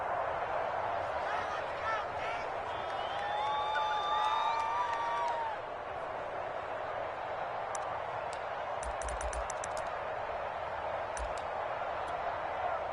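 Stadium crowd noise from a PS4 American football video game, a steady broad roar with brief rises of cheering, playing under a commentator's voice throughout, with some scattered clicking sounds later on.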